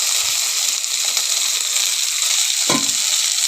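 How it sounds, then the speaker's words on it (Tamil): Onions and brinjal sauté in a pan for kathirikai chutney, giving a steady, even sizzling hiss throughout with a soft stirring knock near the end and no voices. "நல்லா வதங்கட்டும். பாருங்கள் வெங்காயம் வதங்கிடுச்சு."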